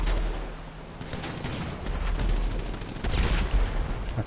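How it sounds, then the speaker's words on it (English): Rapid machine gun fire in GTA, dense continuous bursts of crackling shots with heavy low booms, loud and sustained throughout with no talking. "Don't you feel like your life has purpose as a machine gunner?"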